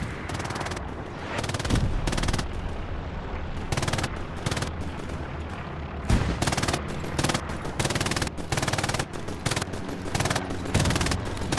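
Sustained machine-gun suppressing fire in a Hell Let Loose battle at Purple Heart Lane on Carentan Causeway, loud dense bursts rattling almost continuously with short gaps between volleys.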